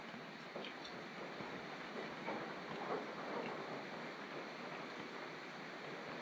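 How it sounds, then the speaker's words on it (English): Steady rain pattering outdoors as water drips off a roof into a collecting container, a soft continuous wash of fine drops with no voices. "drip by drip I'm collecting water off the roof."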